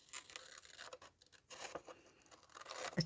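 Scissors snip off a flap of a botanical-themed journal, with soft, faint paper cutting and crinkling sounds in short bursts close by.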